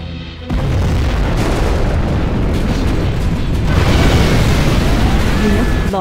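Nuclear missile detonation in Command & Conquer Generals Zero Hour, a loud sustained roaring blast that erupts after a brief quiet moment and rumbles on with dense low-end turbulence for several seconds.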